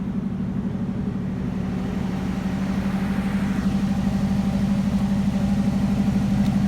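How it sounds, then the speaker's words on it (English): A 1983 Buick Regal Wagon with a Flowmaster aftermarket exhaust idles steadily with a deep, rumbling exhaust note, constant and close, with no voices. "Here's the exhaust. Not totally factory. It's a Flowmaster."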